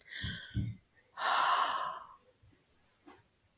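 Two short breathy exhales onto cupped hands are followed by one long, open-mouthed breath out, then a faint final puff, all close and quiet with no talk.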